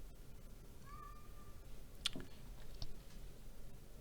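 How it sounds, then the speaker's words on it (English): A cat meows softly nearby in a quiet room, one short rising-falling call under faint background hiss, followed by a few light clicks. "Oh, and my cat Asta is here"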